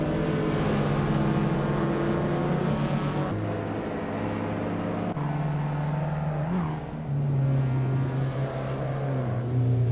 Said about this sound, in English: Apex Milkbag is driving a vintage Porsche 356A from 1955.